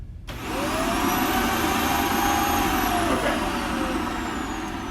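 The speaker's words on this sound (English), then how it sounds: "so now I know the vacuum's clogged" A clogged Shark NV752 vacuum cleaner switches on and runs loudly and steadily, its motor whining at a strained, high pitch.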